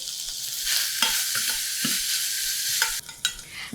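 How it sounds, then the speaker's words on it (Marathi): Onions sprinkled with salt fry in a pan for a vegetable curry, a loud close sizzle with repeated scraping stirs of a spoon and a brief dip near the end. "आता कांद्यावर थोडं मीठ घालायचं म्हणजे कांदा पटकन शिजतो"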